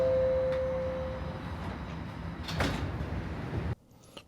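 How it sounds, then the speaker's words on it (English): Train sliding doors closing after a chime, a rumbling glide with a thud, then cabin hum that drops off abruptly. "you can see the door closing, the high point in this audio is gonna transition it"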